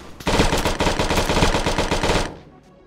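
A machine gun fires a long, rapid, evenly spaced burst in a video game, loud and close, then cuts off into a short fading tail.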